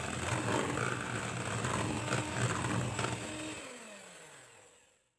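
An electric cake mixer beats pandan cake batter with liquid milk at low speed, giving a steady close whirring drone for a few seconds before the motor winds down with a falling pitch to silence.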